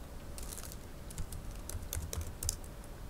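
Quick, irregular keystrokes on a computer keyboard while a slide title is entered in Microsoft PowerPoint, close and crisp with no talking.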